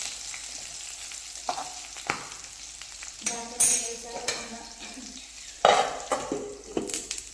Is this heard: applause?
no